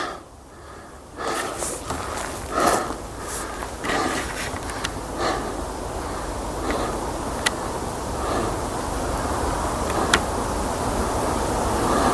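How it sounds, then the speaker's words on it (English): Steady broadband rush of distant car traffic carries up to a wild basin, a continuous faint hum with breathy, gusty swells near the start, a few sharp ticks and no talk. "Pretty crazy how you can hear the cars up here."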